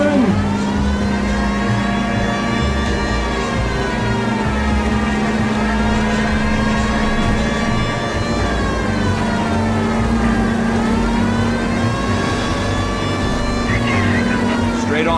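Car driving in the L.A. Noire game, a loud sustained engine hum with wavering revs and a wailing siren running alongside it throughout, no break in the noise.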